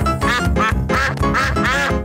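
A cartoon duck from the Pocoyo children's series quacks repeatedly in a loud, close run of nasal, rasping calls, about five quacks in quick rhythmic succession.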